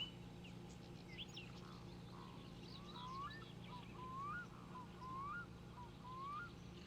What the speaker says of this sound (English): That bird chirping is driving me nuts.